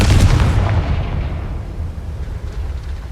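A Confringo spell blast in Hogwarts Legacy booms loudly at the start, a heavy low explosion whose roar decays steadily into a long rumbling tail with no talking.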